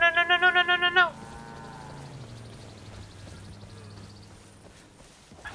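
A cow in a game lowing loudly in a quick run of pulsing moos, followed by a lower trailing bellow and quieter rumbling movement.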